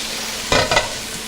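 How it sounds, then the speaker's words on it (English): Carrots boil in a pot of chicken stock and orange juice, a steady bubbling hiss broken by one brief louder burst of sizzle and stirring midway. "we're just gonna let it boil until those carrots get nice and soft"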